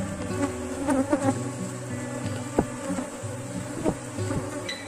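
A swarm of honey bees, newly placed in a hive during a colony split, hums in a dense, continuous buzz up close, with scattered individual bees flying past.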